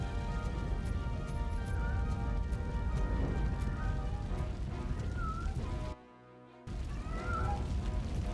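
A cat meows repeatedly inside a burning hotel in the RoboCop: Rogue City video game, with short mewing calls over a constant roaring fire and rumble that cuts out briefly partway through.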